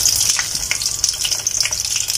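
Soya chunk patties deep fry in hot oil, a steady, loud bubbling sizzle with a few small pops and crackles, heard up close with no voices.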